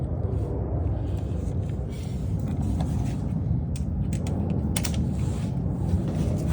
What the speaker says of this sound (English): now we can get to removing all the bolts